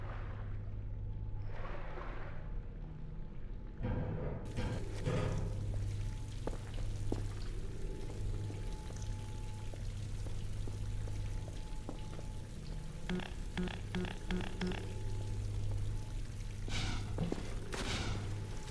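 Rising water in Half-Life 2, a steady rushing, pouring wash with splashy droplet-like patter, heard alone and continuous throughout with a few brief clanks and knocks over the flow.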